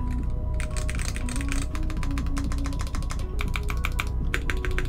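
Typing on a Volcano660 mechanical keyboard fitted with H1 switches, a rapid dense run of close clacky keystrokes in bursts with brief pauses, steady and fairly loud, no talk.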